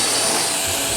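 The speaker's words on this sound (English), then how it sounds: "If you got a clean floor, you can vacuum with this thing." A handheld vacuum cleaner runs loud and close, with a steady broadband whoosh and whine over a clean floor and no pauses.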